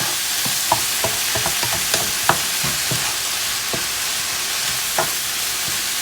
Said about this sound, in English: I'm going to saute that right in our pan as well